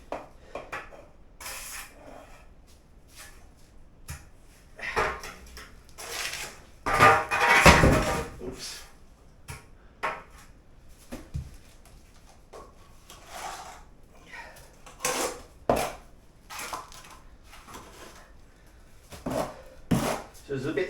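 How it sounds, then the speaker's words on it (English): Plaster scraped off a wall with a trowel, giving repeated short rasping scrapes in irregular bursts, one longer and louder pass in the middle, with room noise between strokes. "And then you can scrape off your excess again."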